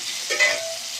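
Chopped onions and mushrooms with a pinch of powdered salt sizzle softly in a pan, with a brief scrape of stirring in a short, close moment.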